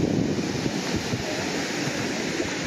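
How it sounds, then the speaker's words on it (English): Ocean surf washing onto a large beach, a steady broadband roar mixed with wind buffeting the microphone, continuous and fairly close, with no voices. "A big beach."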